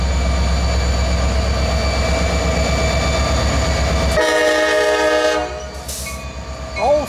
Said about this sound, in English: listen to that EMD running